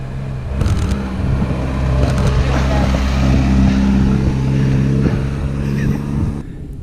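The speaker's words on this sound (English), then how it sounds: "Hold up! It's another car!" A car rolls past on a narrow country road in the Peak District, its engine rumble swelling loud and close through the middle and fading away near the end.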